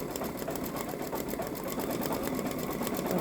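A Babylock Solaris Vision embroidery machine stitches the green part of a Ninjago ninja design, a fast, steady mechanical clatter with rapid even needle strokes, close and loud, with no talk.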